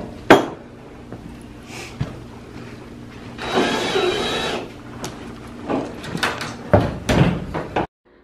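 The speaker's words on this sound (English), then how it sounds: "putting on the second door" Metal door being fitted onto a 10x8 metal storage shed during assembly: sharp clanks and thuds of sheet metal, a longer scraping slide in the middle, then more knocks and rattles at close range.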